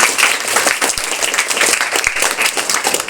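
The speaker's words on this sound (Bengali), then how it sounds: "Priyanshi জন্য একটা হাত তালি হবে।" A school audience gives applause for a student named Priyanshi, loud and dense clapping from a crowd continuing throughout with a couple of sharper individual claps.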